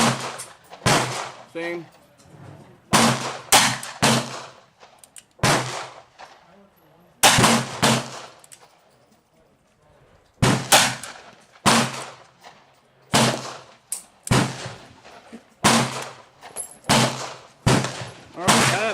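Loud gunshots from a .38 Special revolver firing short handloads, including weak squib rounds, spaced irregularly through the clip with short pauses between them. Brief talk sits between some of the shots.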